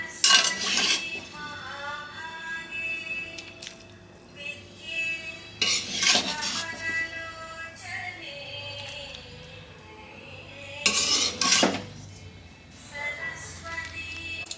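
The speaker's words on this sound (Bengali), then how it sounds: "এরপরে আমি ভাজা সবজিগুলো এক এক করে এর মধ্যে দিয়ে দেবো" A metal spoon clatters and scrapes against a pot as fried vegetables are stirred into half-cooked rice and lentil khichuri made with Gobindobhog rice. It comes in three loud bursts with quieter clinks between them, close up.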